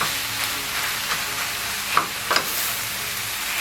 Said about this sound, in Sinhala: එකතු කරන ගමන් අපි පොඩ මේ කලවම් කරගන්න ඕනේ